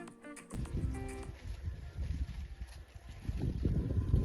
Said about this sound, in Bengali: বাহ, কি সুন্দর হাওয়ার শব্দ না?